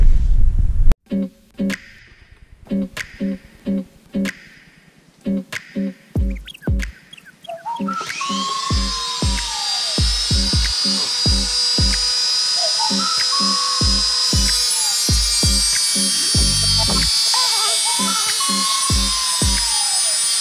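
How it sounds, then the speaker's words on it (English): A power tool cuts down a bolt during a Jeep Patriot bull guard and skid plate install: several short bursts at first, then a loud sustained high-pitched grinding whine that wavers as the tool bites into the metal. "I'd rather just go ahead and cut the bolt down a little bit"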